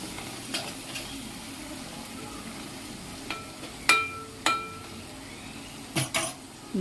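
Soft sizzling in a pan as a spoon stirs fried onions with ginger-garlic paste and turmeric for mutton keema curry, punctuated by a few sharp clinks of metal against the pan's edge.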